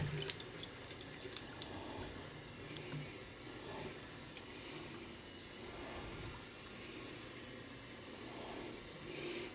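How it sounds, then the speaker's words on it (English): A bathroom sink tap in the lavatory of a Cessna CJ3+ business jet runs water in a steady, moderate stream. A few sharp clicks come at the start, and the flow continues alone without talk. "turn the water on"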